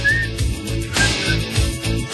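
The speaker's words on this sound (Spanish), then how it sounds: "Ahí escuchamos el silbido, ¿eh?" A brief melodic whistle rises over a rhythmic pop song with steady drums and bass, playing at moderate volume throughout.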